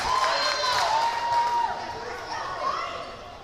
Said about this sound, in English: The home crowd, you can hear them.